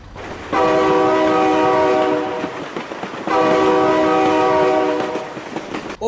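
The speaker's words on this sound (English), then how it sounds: "Oh my God, train!" A train in the BeamNG Drive game sounds two long, loud, sustained horn blasts over the rumble of rolling wagons, close by, with no talk over it.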